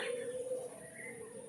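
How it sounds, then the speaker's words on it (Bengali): A bird coos softly at a distance, a steady low call drifting over faint outdoor background noise. "ছাদে আসলে এত সুন্দর পাখির ডাক শোনা যায়"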